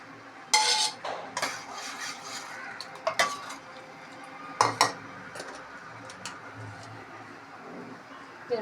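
A spoon stirring brinjal sambar with cooked toor dal in a metal pot, giving repeated clinks and scrapes against the vessel in irregular bursts, close and fairly loud, with soft bubbling in between.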